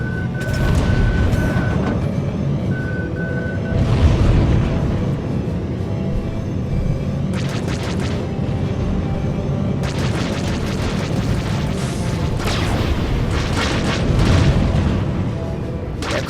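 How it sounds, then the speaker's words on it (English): Deep booming missile explosions in a spaceship combat video game, several heavy blasts and rumbling bursts spread across the stretch with crackling debris and a short beeping alert tone early on. "Target ship launching missiles."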